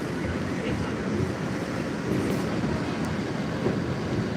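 A Boston MBTA Green Line Type 9 tram rumbles past at moderate distance, a steady broadband roll of wheels on rail under outdoor street ambience.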